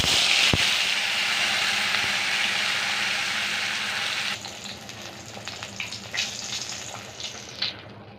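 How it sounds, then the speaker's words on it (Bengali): Fish sizzles and spits in hot oil in a home kitchen, a steady loud hiss that later drops to quieter crackling with sharp pops, with no voices over it. "এবার মাছটা ভেজে নিই।"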